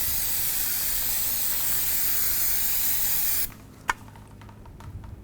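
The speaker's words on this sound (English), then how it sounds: "Just spray this down with some brake parts cleaner" Brake parts cleaner hisses from an aerosol can onto a front brake caliper of a 2005-2010 Chevrolet Cobalt in one loud, steady spray lasting several seconds, then cuts off, leaving a sharp tap and faint shop noise.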